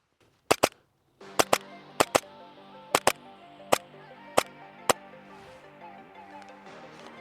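An Umarex Glock 17 Gen 5 gas pistol fires about ten sharp, loud shots at a steady, slightly uneven pace, each a crisp crack with a short ring, over a low continuous hiss.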